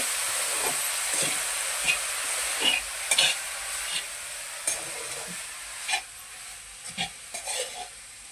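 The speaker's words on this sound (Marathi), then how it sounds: "आता हे हलवून घेते" Chai flower buds and onions are stirred in a frying pan, with a steady sizzle beneath irregular scraping strokes of a spoon against the metal, close and moderately loud.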